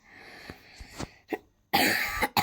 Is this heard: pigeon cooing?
no